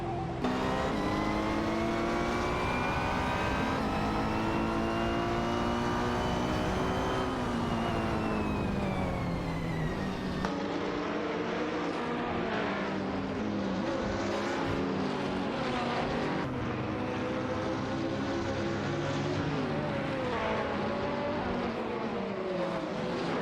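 Video game AI race cars roar through a continuous, dense engine drone with steady pitch sweeps as cars rev and shift, loud and unbroken for the whole stretch with no talking over it.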